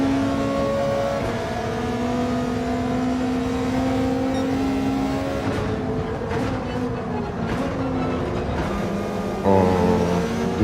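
Subaru BRZ in the Gran Turismo 7 racing game, steady engine drone holding pitch at speed with brief shifts and a rising rev near the end, continuous and fairly loud.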